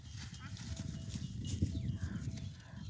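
A horse's hooves clip-clop among rice fields in rural Laos, near Ban Wang Mao in Champhone, Savannakhet, amid steady outdoor background noise while someone talks over them.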